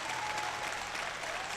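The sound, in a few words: audience applauding at powerlifting championship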